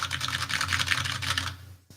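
Rapid typing on a clicky computer keyboard, crisp close keystrokes rattling in quick succession for about a second and a half, then stopping.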